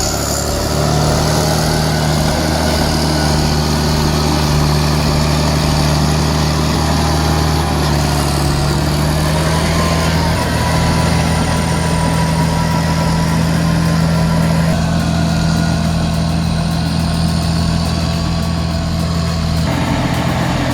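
A D6 bulldozer engine runs loud and close while pushing dirt, a steady low diesel drone with a constant hum and shifting mechanical clatter throughout.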